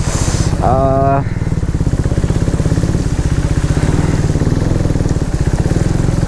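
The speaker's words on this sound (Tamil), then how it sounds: "நம்ம தான் கெத்தா வண்டியில் போகிறோம்" A motorbike riding through a flooded Chennai street after a cyclone: a loud, close engine throbbing steadily throughout, with a brief rising tonal sound near the start.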